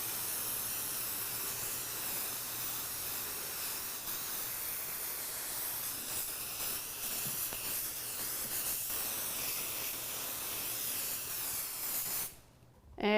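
A continuous basting adhesive spray hisses close by onto quilt fabric for several seconds, then cuts off briefly before a final short burst.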